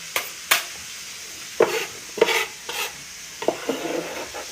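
Chopped onions tumble into a bowl for a chana chaat, a few soft scattered thuds and rustling scrapes spread unevenly across a few seconds, close and moderately loud with no talk.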